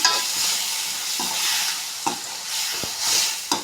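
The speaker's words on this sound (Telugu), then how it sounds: "టమోటాలు వేసుకున్నాం కట్ చేసుకున్నాం కదా సన్నగా మళ్ళీ దీన్ని ఒకసారి కలుపుకున్నాము" Finely chopped tomatoes for a samosa filling are stirred in a frying pan, producing a steady sizzle broken by intermittent scraping strokes and a few light utensil knocks, close by and without speech.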